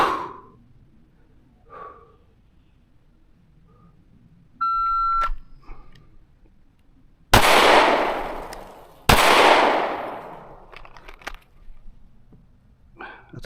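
Pistol shots from a Canik Prime in a qualification shooting drill: two loud, sharp reports several seconds apart, preceded by a brief electronic timer beep, with faint breathing and movement in between.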